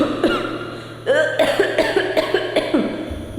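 A voice mimics someone coughing, heard as a series of short, rough bursts close up, repeated about seven or eight times in a choppy rhythm over a low steady hum.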